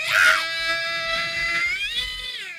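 A high, piercing sung scream from a song, a sharp burst that settles into a sustained wavering falsetto note with faint backing underneath.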